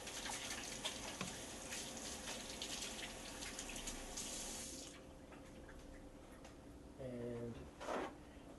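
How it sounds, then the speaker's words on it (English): A kitchen tap runs while hands are washed with soap, a steady rushing stream close by for about five seconds, then quieter with a brief gush near the end; a voice speaks faintly at points. "now I have to go over and clean my hands with the soap"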